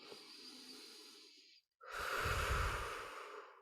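Slow, deep breathing during a workplace relaxation exercise, a soft airy exhale fading out, a brief pause, then a long full inhale that swells close and clear to the end, with no talk over it.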